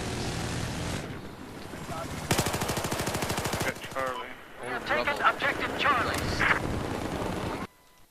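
Rapid automatic bursts from a hip-fired gun in the Battlefield 4 beta ring out in a couple of loud strings, with someone talking between and over the shots.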